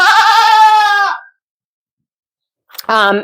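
A goat on a grooming stand lets out a long, loud wavering bleat, then falls silent before a second shorter bleat, both close and clear.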